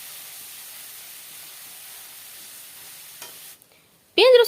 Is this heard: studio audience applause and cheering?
no